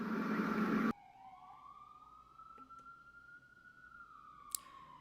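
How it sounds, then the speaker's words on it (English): An emergency vehicle siren passes outside: a loud burst of noise cuts off, then a clear wailing tone rises slowly and holds at a distance, with a faint click partway through. "we're going to get out of here after this siren passes"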